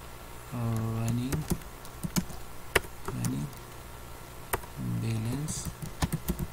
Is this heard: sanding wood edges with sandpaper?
no